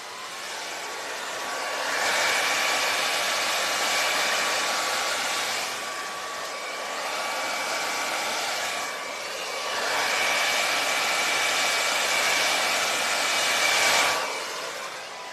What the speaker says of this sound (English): So I'm going to use the blow dryer again.